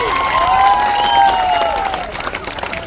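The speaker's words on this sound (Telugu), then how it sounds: "రంగాపురానికి గట్టిగా చప్పట్లు కొట్టులే." A crowd at an outdoor political meeting claps and cheers loudly, dense applause with shouts and whistles that fades slightly toward the end.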